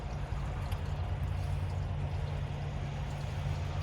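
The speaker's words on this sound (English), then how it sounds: "I can still hear that gray water is dumping" Gray water draining out of an RV holding tank makes a steady, continuous low rushing and gurgling flow. It holds an even level throughout with no break and no talk over it.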